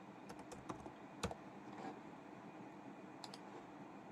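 Quiet typing on a computer keyboard while coding in Python: scattered clicks and a few sharper keystrokes over a low room hum, with no speech.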